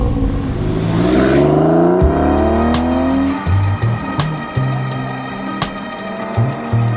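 A Porsche 911 996 drives on a Utah road trip, its engine revving loud and close with rising pitch, then a steady rhythmic mechanical pulsing as it moves along.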